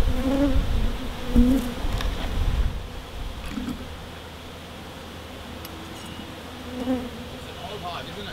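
Bees from an old wild hive inside a power box drone in a steady buzz, louder in the first few seconds and fading toward the middle, with a few faint voices and handling noises underneath.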